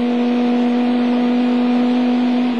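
Chrysler Viper GTS-R race car of Viper Team Oreca on Michelin tyres at the 1999 24 Hours of Le Mans, its engine holding a loud, steady, unbroken drone at speed for a few seconds.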